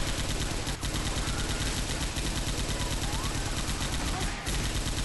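Dense, rapid gunfire fills the Left 4 Dead 2 video game, a loud continuous automatic-weapon barrage with a couple of heavier shots standing out.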